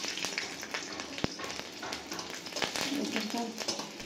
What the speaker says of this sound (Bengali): গোটা রসুন 1 মিনিটের মতো ভাজা ভাজা করে নেব।